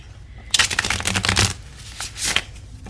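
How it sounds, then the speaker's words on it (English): Tarot cards being shuffled by hand in a few quick riffling bursts, close and crisp, with short pauses between them. "Let me shuffle one more time."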